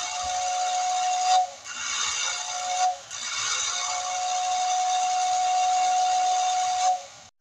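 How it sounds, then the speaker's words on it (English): Post-war Lionel toy train whistle sounded through a homemade controller, a steady airy steam-style whistle blown in three long blasts with brief breaks, loud and close with no talking. "And a post-war Lionel whistle."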